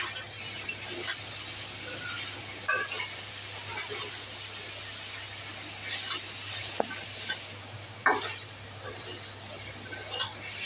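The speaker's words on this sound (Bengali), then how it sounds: "এবার আমি নেড়ে দিচ্ছি তরকারিটা, সবজিটা।" Mixed vegetarian vegetable curry (panch mishali tarkari) is stirred in a hot pan, giving a steady close sizzle broken by scattered spoon scrapes and clicks against the pan, with no talking.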